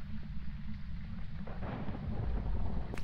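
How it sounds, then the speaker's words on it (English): Thunder rumbling in the horror video game Phasmophobia, a low rolling boom that swells in the second half over a steady bed of rain. "Thunder is not a sign."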